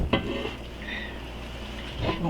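Onions frying in a pot give off a steady, soft sizzle. A couple of brief clinks from a utensil or pot punctuate it.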